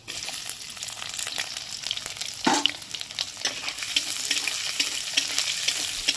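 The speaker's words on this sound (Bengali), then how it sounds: "ভাজা হয়ে গেছে এবার দিয়ে দিচ্ছি পেঁয়াজ কুচি" Chopped onion, a large one, frying in a pan: a dense, steady sizzle with a sharper hiss as the onion hits the hot oil and stirring scrapes throughout, close and continuous.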